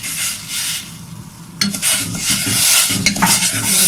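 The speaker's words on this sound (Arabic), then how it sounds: "نقلبهم مع بعض كده" Water and sugar are stirred together in a pot on the stove, making a steady scraping and swishing sound with a few clinks of a utensil against the metal, close and fairly loud.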